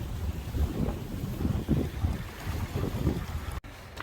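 Rough sea waves and gusting wind at a harbor breakwater, a continuous loud rumbling wash with heavy wind buffeting the microphone throughout, no voices.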